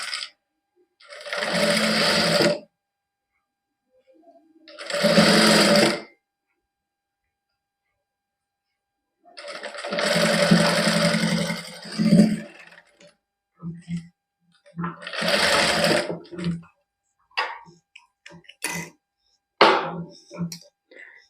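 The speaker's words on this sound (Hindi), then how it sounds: "ਕੱਪੜੇ ਨੂੰ ਮੋੜਦੇ ਹੋਏ ਤੇ ਆਪਾਂ ਇਹਦੇ ਲੈ ਤੇ ਸਲਾਈ ਲਾ ਲਾਂਗੇ ਇਸ ਤਰ੍ਹਾਂ" Sewing machine stitching folded fabric with lace, several close whirring bursts of rapid stitching separated by pauses, with brief quiet handling sounds in the gaps.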